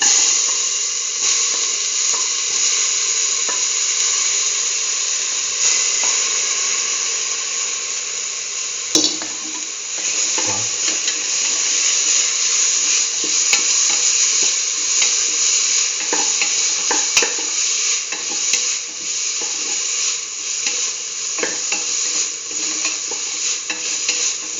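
Tomato pieces frying in a pan with a dense, bright, continuous sizzle and occasional stirring knocks and scrapes, close and loud, no talking.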